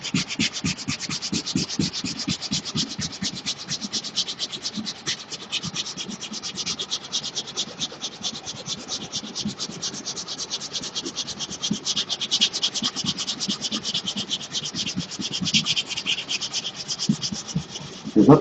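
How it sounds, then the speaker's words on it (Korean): Steady, close hand sanding of a car bumper with 220-grit sandpaper during a partial repaint, rapid rhythmic back-and-forth scratching strokes running continuously with no talking. "180방으로 긁은 부분을 220방의 사포로 만들어주는 거죠"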